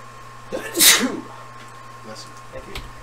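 One sharp, loud human sneeze bursts out over a steady background hum, followed by quieter room sounds and faint movement.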